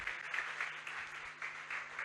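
A church congregation at a servants' conference applauding: steady, faint, distant clapping that swells in small waves for about two seconds, with no voices on top.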